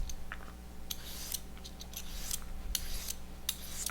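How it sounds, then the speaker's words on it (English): A julienne peeler shreds a cucumber into thin strips, giving a series of short, crisp scraping strokes in an irregular rhythm, close and fairly quiet, with no talking. "I like to do it this way with the julienner."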